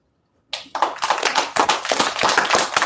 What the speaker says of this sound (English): So another round of applause for you guys.